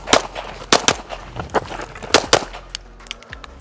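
Handgun shots crack in quick succession during a shooting training session, fired as fast as possible at targets. Two rapid strings of sharp, close reports are followed by a few lighter, more scattered shots, with no talk.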